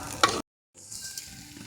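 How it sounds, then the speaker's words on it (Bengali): Rice with green peas fries in a pan with a close, crackling sizzle and stirring scrapes, cut by a brief silent gap before the sizzling resumes. "চলো ভালো করে মটরশুঁটি দিয়ে এবার ভেজে নেব চালটাকে"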